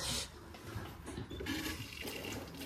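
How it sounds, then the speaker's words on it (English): Water runs from a tap into a small tub set under it, a soft, steady gush and splash with faint shifting, heard alone at low level. "now we've got water coming out of there"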